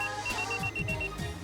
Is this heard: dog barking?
no